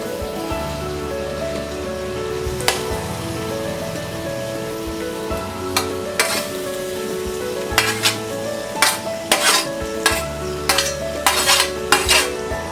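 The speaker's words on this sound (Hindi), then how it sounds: "अब हम इसमें डालेंगे ये ग्रेटेड रॉ मैंगो," Grated raw mango tossed into a hot frying pan and stirred, giving a steady sizzle under repeated metal scraping and clinks of a spatula against the pan, growing busier toward the end.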